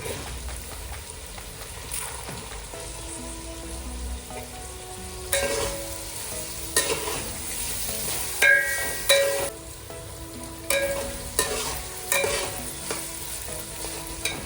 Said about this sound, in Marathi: आता त्यात गाजर टाकून परतून घेऊया।